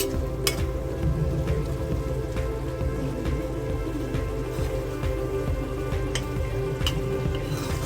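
Prawn and green bean curry sizzles steadily in a pan near the end of cooking, a dense continuous crackle with occasional sharper pops, close and fairly loud, with no talking.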